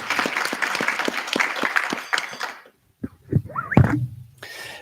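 Loud applause from an audience for a couple of seconds, stopping abruptly, then scattered sounds and a voice begin.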